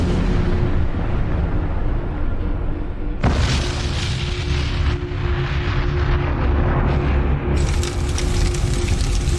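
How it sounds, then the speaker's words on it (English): A dramatized blast of Chernobyl Reactor 4: a loud, deep, rumbling explosion effect with abrupt surges, a sharp new burst at about three seconds and another swell near the end, continuing heavily throughout. "A massive blast rips through Reactor 4, sending a plume of radioactive material into the sky"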